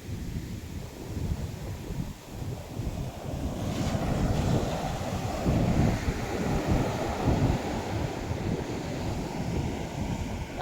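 Ocean waves surge and break on a beach, a rolling rush of surf that swells and recedes under gusty wind buffeting the microphone, fairly loud and with no talk.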